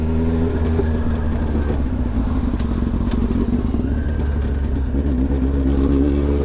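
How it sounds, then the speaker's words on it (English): A car revving loudly as it speeds close past a pedestrian, engine roar with rattling clatter, steady and near for several seconds, no speech. "I almost get hit by a fucking car."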